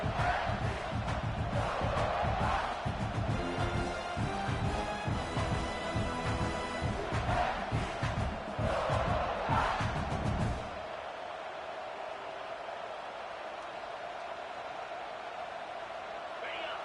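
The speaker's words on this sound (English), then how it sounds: "This crowd going to try to make life miserable for these guys." Loud stadium crowd roars and chants at a college football game, South Carolina against Tulane, a dense sustained din with a voice talking over it that eases into a softer steady murmur for the last few seconds.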